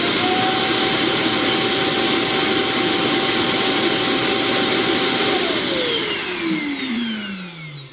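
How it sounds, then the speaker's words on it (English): Freo X Ultra robot vacuum emptying its dustbin into the base station: a steady, loud, whooshing suction roar with a whining tone that drops in pitch and fades as the cycle winds down near the end, no voices. "Now that was way quieter than other robot vacuums that have the big dustbin that it empties into."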